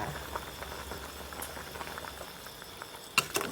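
Tom yum soup with frog and young tamarind leaves simmering, a quiet bubbling patter close by, with a couple of sharper clinks near the end.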